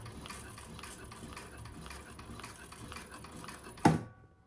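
A quiet sewing machine stitches a crossbody bag in a soft, steady run of rapid ticking, faint and close, before a sharp metallic clack near the end.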